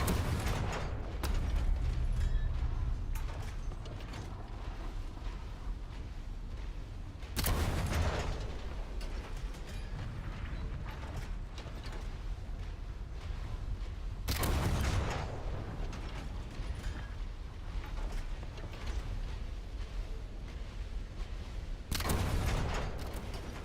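Cannons firing in a sandy video game extraction playtest, with three loud, booming blasts spaced several seconds apart over a continuous creaking, mechanical rumble.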